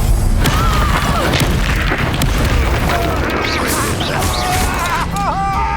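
Spell blasts and booms from Confringo casting in Hogwarts Legacy, heavy and continuous over dense game noise, with a voice talking over the action.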